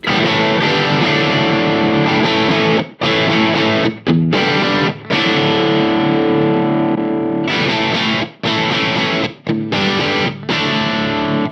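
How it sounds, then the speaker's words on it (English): Electric guitar through an Engl Retro Tube 100 amp with the tone switch engaged, playing loud, heavily distorted chords in sustained blasts broken by short, sharp stops. "Now if I do the same sound but with the tone switch in"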